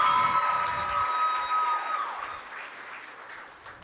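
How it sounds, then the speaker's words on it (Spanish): An audience at a regional oratory contest claps steadily, then the applause gradually fades away over a few seconds. "¡Fuerte el aplauso para Nayelis!"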